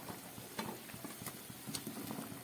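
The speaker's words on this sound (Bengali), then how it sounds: "ঝোলটা ফুটে উঠেছে এবার আমি এর মধ্যে দিয়ে দেবো কেটে রাখা সজনের ডাটা" Cut drumstick (moringa) pieces go into a boiling, spicy potato curry, giving a steady low bubbling and sizzle broken by a few sharp clatters and splashes as the pieces land, close and moderately loud with no talking.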